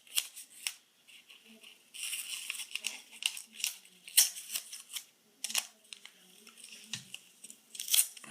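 Scissors cut a strip of tape in half during work on a parlor guitar build, giving several crisp close snips and crinkling handling noises in a quiet room, with no talk.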